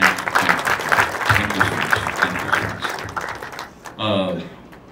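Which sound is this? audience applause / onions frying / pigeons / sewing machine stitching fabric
audience applause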